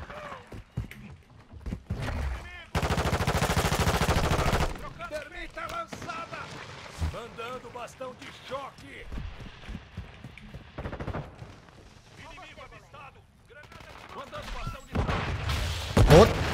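Grenade blast in the Call of Duty Modern Warfare 2 beta on PC, heard as a loud burst of noise early on amid ongoing gunfire and battle clatter, with someone talking throughout.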